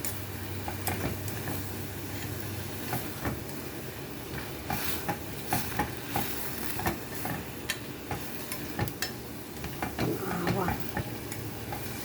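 Garlic sizzles and fries in a pan for a lunch meal, a steady crackle broken by scraping stirs and light utensil knocks, close by and moderately loud, with no talking.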